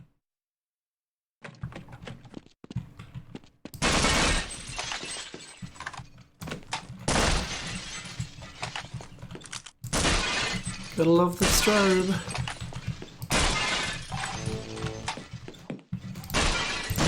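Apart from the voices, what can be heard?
glass shattering when shot in a video game map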